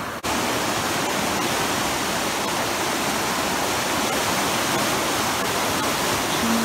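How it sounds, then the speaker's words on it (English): Water rushes loudly and steadily from Big Spring, a large natural gravity spring near Van Buren, Missouri, making a continuous, dense roar with no pauses or talking. "It's a gravity spring, the largest natural water spring in the country."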